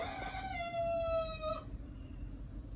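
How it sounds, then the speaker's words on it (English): A single rooster crows once, a drawn-out falling call lasting over a second, heard at moderate distance against quiet background noise. "the rooster will be quiet so we can do this video"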